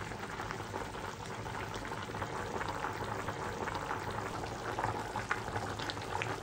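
Chicken tinola soup at a rolling boil in a pot, a steady bubbling and gurgling that stays close and even throughout, with no talking over it.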